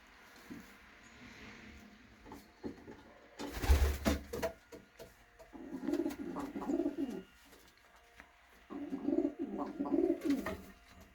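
Several domestic pigeons coo in bursts of low, rolling calls, close by, with pauses between phrases and a brief rustle or flap midway.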